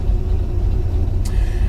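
A truck engine idles while warming up, giving a steady, close, low rumble with a faint higher whine, and a short hiss breaks in near the end.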